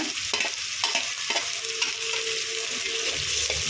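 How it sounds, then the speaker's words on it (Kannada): Carrot stir-fry with dried red chillies and crushed garlic frying in a pan: a dense, continuous sizzle under repeated scraping stir strokes, close and fairly loud, with no talking. "ಸ್ವಲ್ಪ ಕೆಂಪಗಾಗೋವರೆಗೂ ಫ್ರೈ ಮಾಡ್ಕೊಳ್ಳೋಣ."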